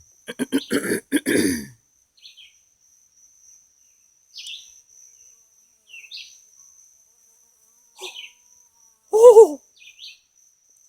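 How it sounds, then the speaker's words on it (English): A hornet-like insect buzzes in short bursts close to the microphone, a loud sustained drone at first, then brief scattered buzzes amid near silence, with a voice speaking briefly. "It wasn't a bee. It was some kind of hornety thing."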